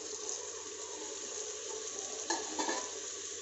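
Tomatoes go into a hot pan for brinjal and potato sabzi and are stirred, a soft steady sizzle with a few louder scraping stirs near the end, with no talk.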